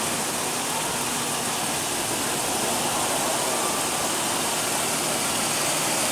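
A 2015 Toyota Tacoma with a 4.0 L V6 idling, a constant loud broadband engine rush with a steady low drone and no voices.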